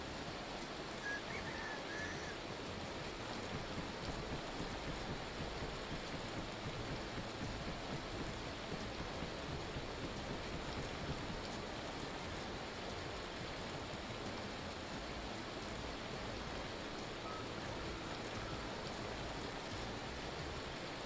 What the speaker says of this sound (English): Hail!